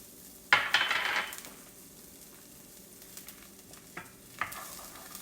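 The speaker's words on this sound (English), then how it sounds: "So I'm going to add the onions." Chopped onions hitting a hot pan for New Orleans shrimp with Cajun red beans and rice, a sharp burst of sizzle that quickly settles into a quiet hiss, with a couple of light utensil clicks later.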